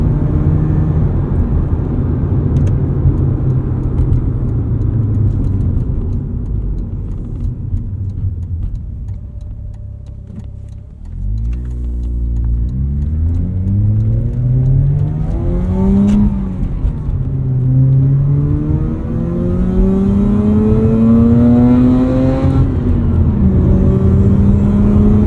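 A 2009 Mazda RX-8 rotary engine revs up through the gears while driving, its rising whine climbing in pitch, dropping at each shift, then climbing again, loud and close throughout with no talk.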